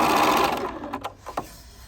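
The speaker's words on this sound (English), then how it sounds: "So I have one here on the machine ready. So we're just going to sew this short end right here." A sewing machine stitches the short end of a fabric triangle for a quilt block, running in a steady whirring burst that winds down into a few soft clicks.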